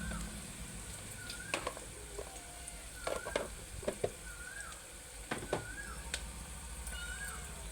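Coriander frying for a Telangana-style mutton curry: a constant low sizzle with occasional stirring clatters and scrapes, while a cat meows faintly several times in the background.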